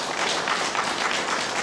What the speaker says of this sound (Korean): 따뜻한 사랑의 박수 한번 해주시기 바랍니다